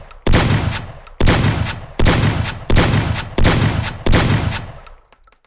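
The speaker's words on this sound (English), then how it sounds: "The combat shotgun is a starting weapon and fires a tight spread of 9 pellets." Six loud combat shotgun blasts from an arena shooter video game, each spraying a tight spread of nine pellets, fire at a steady rhythm about one per second, with every boom decaying before the next shot.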